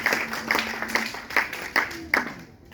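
A church congregation claps in a loose, uneven rhythm, roughly six distinct claps spaced about half a second apart, moderately loud in a reverberant room.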